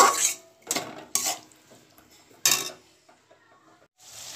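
A spoon scrapes and clatters against a pan while spices and sugar are stir-fried for dhokar dalna, several loud separate strokes with quiet gaps between them.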